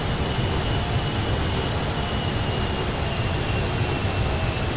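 An airplane rolling on the ground after landing in the video game Grand Theft Auto 5, a steady loud jet engine roar with broad rushing noise that holds constant throughout, with no voices.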